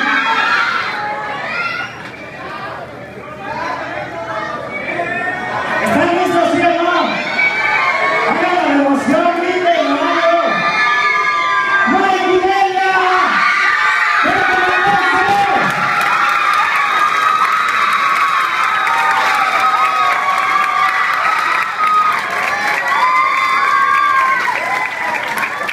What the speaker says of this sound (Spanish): Y el aplauso para todos, todos los compañeros.